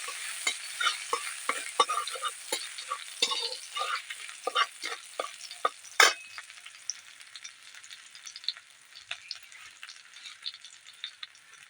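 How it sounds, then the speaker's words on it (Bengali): Chopped ginger and garlic fry in hot oil, with a crackling sizzle and sharp spatula scrapes against the pan that are busy at first and then thin out to a quieter, steady fizz. "তেল গরম হয়ে গেছে, আদা এবং রসুন কুচি দিয়ে দিচ্ছি।"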